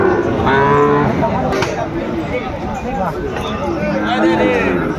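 Sahiwal bull calves at a busy cattle market let out loud, drawn-out moos close by, repeated over a constant murmur of crowd chatter and bargaining voices.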